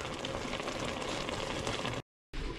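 A pot of dandelion flowers and lemon juice simmers on low heat with a soft, steady bubbling and hiss that holds at an even level, broken by a short gap of silence near the end.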